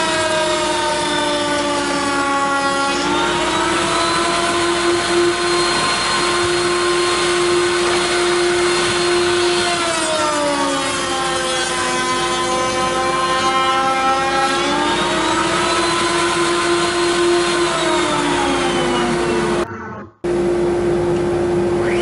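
A wood router motor whines steadily while its bit cuts into the wood of a jewelry box, the pitch sagging and recovering as the bit loads up, then cutting off abruptly near the end.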